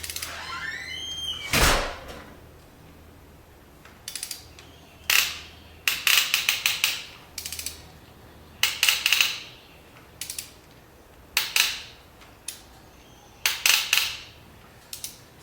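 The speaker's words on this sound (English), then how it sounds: "when it feels like it's sliding a little bit, that's when I think it's the part in the plug is turning" A spark plug on a 4.6L three-valve Ford engine is turned out with a wrench and ratchet, giving repeated sharp clicking bursts of ratcheting in short irregular runs, close and alone.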